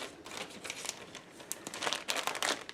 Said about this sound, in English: I'm going to pop my excess paste back into the bag.